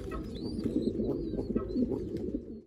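Tariran pigeons coo in a loft, a dense, continuous murmur of low overlapping calls from several birds close by, with faint higher chirps above.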